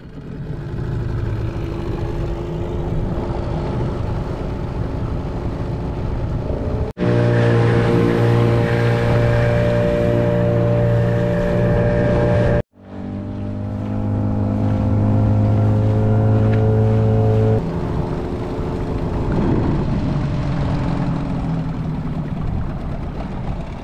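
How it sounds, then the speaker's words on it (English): A motor dinghy engine drones steadily while crossing open water between islands, a loud, close humming rumble with shifting pitch and brief cuts in level, with no talking. "Gonna hop back in the dinghy and head to the next island"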